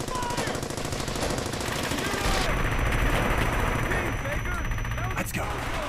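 Sustained MG-42 machine gun fire in the World War II shooter Brothers in Arms: Hell's Highway: dense, continuous bursts of gunfire that fill the whole stretch, layered with other battle noise and loud throughout.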